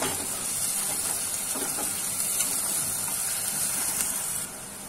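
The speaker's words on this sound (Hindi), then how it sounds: "प्याज को हमें यहाँ पे हल्का सुनहरा होने तक भूनना है" Chopped onions fry over medium-high heat in a kadhai for restaurant-style kadhai paneer, giving a steady, dense sizzle that holds evenly throughout with no talking.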